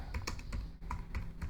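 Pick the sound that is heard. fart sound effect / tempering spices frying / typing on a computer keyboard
typing on a computer keyboard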